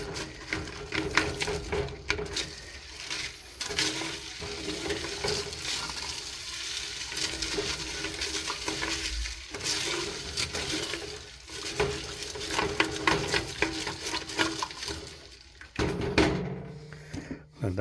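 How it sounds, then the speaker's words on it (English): Caramel chunks for candied yams are stirred and scraped across the bottom of a pan as they melt, a steady close scratching and sizzling that runs throughout with no talk. "scraping the bottom of all the caramel chunks."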